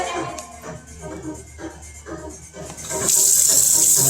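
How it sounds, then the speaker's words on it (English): Water sprays into a baby food pouch to rinse it out, first with scattered splashes and handling noises and then a steady, close hiss of spray toward the end. "we're just going to wash that out with some spray"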